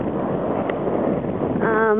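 Steady wind blustering against a microphone outdoors at Coos Bay, Oregon, a constant rushing roar with a faint tonal whistle near the end.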